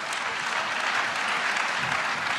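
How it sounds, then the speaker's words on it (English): Audience applause at a legal practice management panel discussion, a steady wash of many hands clapping that carries on evenly without pause and with no voices on top. "a round of applause"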